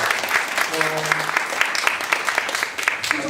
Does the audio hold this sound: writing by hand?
no